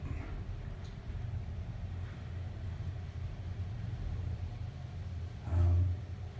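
Low, steady rumble of a ThyssenKrupp destination dispatch elevator travelling up in a Chicago high-rise, with a brief louder thump near the end and no talking.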